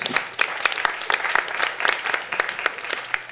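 Audience at a delegate assembly giving a round of applause for a security staff member, with many hands clapping in a lively, fairly close burst of sharp claps that holds steady for several seconds.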